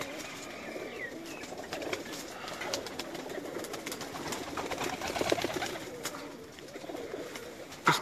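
Many pigeons coo together in a large loft at a champion breeder's dera in Pakistan, a dense, continuous chorus of overlapping low burbling calls with faint chirps and a brief flutter near the end.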